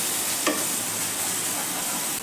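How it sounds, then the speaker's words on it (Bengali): Kolhapuri masala paste with tomato sauce and turmeric fries in a pan for chicken, giving a loud, constant sizzle with one brief stirring scrape near the start. "এবার মশলাটাকে ভালো করে কষবো।"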